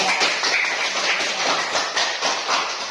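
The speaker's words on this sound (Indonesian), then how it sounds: "silakan berikan aplaus kepada" Steady applause from a classroom of students for the group presenting, dense clapping that holds for about three seconds at an even, fairly loud level.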